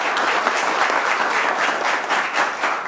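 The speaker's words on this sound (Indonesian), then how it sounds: "Boleh tepuk tangannya, teman-teman mahasiswa" University students at a panel discussion applaud in a thick, continuous burst of many hands, loud and close, filling the room without any speech.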